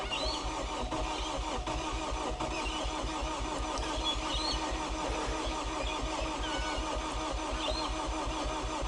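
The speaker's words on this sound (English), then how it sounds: "Give her a crank. Oh, it's tried to start." An old car engine cranks over with a steady, rapid starter rhythm and briefly tries to catch, with the fuel injection switched off, heard close and alone.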